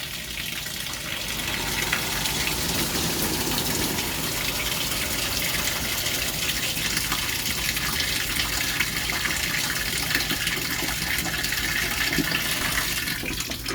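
A washing machine fills with water for a load of laundry, a loud, steady gush running without a break for about fourteen seconds, with no talk.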